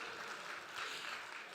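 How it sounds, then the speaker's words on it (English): Audience applause welcoming a speaker onto the stage at a real-estate developers' national convention, a steady wash of clapping filling the whole short stretch at moderate level. "Please welcome him with a round of applause"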